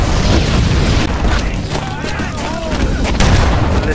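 Grenades burst in the Halo: Combat Evolved campaign as a dense run of booms and gunfire, loud and continuous, with a voice speaking briefly over the battle.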